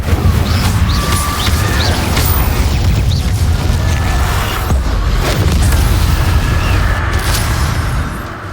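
The Incendio fire spell is cast in a Harry Potter video game, a loud, continuous roaring, booming blast with crackling bursts throughout and no talking.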